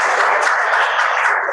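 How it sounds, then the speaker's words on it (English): An audience at a 2012 Millennium Sacco business prayer breakfast gives a round of applause, a thick, even wash of clapping that holds steady through the short moment without speech. "Let's give her another big round of applause."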